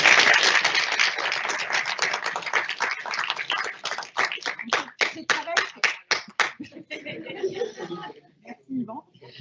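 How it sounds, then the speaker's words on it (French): Audience applause at an exhibition gathering, dense clapping that thins into scattered individual claps, with a few chuckles and talk over it. "On peut vous applaudir aussi."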